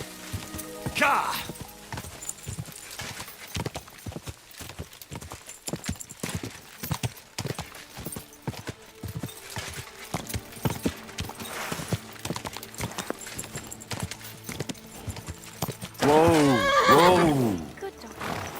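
A horse's hooves clip-clop steadily and closely in Kingdom Come: Deliverance II, with a loud neigh and whinny bursting out near the end, while people talk briefly over the hoofbeats.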